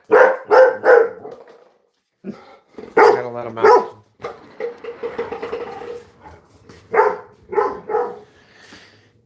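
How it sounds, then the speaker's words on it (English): Several dogs bark loudly in excited bursts nearby, with a person briefly speaking between the barks. "As you can hear, my dogs went crazy."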